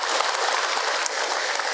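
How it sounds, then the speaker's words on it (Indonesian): Steady, dense applause from a mosque congregation at an Islamic religious talk, filling the whole stretch evenly with no break. "Tepuk tangan untuk kita semua"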